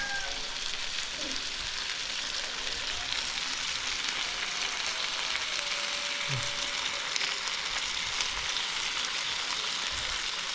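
Pork fat renders in a pan, giving a steady, even sizzle and crackle of frying oil close by, with faint clinks and no voices.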